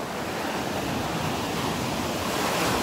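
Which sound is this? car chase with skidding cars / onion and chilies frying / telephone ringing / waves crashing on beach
waves crashing on beach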